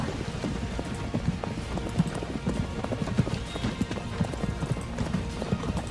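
Horses' hooves clop steadily as they pull a wagon, a dense, continuous patter of many hoofbeats at a brisk pace, mid-distance and moderately loud.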